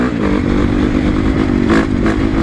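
A 2012 Honda CRF450 dirt bike engine runs steadily after warming up, a loud close rumble with slight revving swells and mechanical clatter, no voices.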